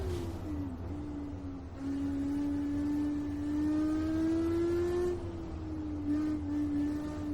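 A Porsche RSR '17 race car engine in a racing video game at Riverside, holding a steady droning tone that rises slowly, dips and climbs again as the car shifts, with no talking.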